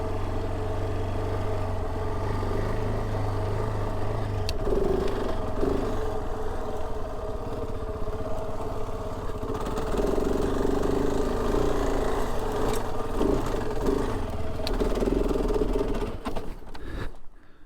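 A motorcycle climbs a rough mountain trail in Montana, its engine droning steadily and close with rising and falling revs and gear changes, ending with a brief drop in sound.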